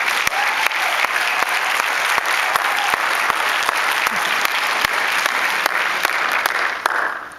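Steady audience applause fills a film premiere introduction at the Lone Star International Film Festival, a dense sustained clapping from a large crowd with no speech over it.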